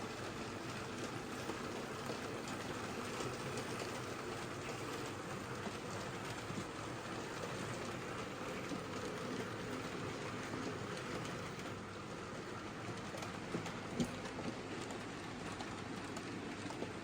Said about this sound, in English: That's a nice 1950s weekend possession train there, and that 4MT in charge of that, no problem.